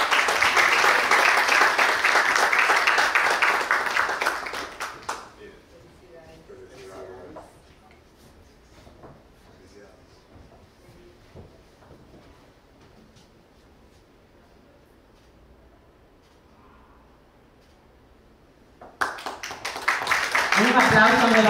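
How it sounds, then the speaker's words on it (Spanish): Applause for participants at an architects' photography exhibition opening and awards ceremony, a dense burst of clapping for about five seconds, then a quieter stretch of faint room noise and shuffling, and a second round of clapping rising near the end. "Un aplauso nuevamente a todos los participantes."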